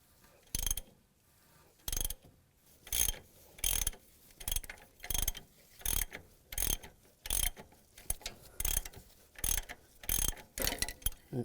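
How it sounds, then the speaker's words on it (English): Harmonic balancer puller being tightened on a Chevy Trailblazer engine during timing chain work, a ratchet clicking in about a dozen short, evenly spaced bursts, close and fairly loud with no talk. "Now I'm going to use a Harmonic balance puller."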